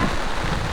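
Steady hiss of rain falling outdoors, loud and close, with a low rumble underneath and no voices.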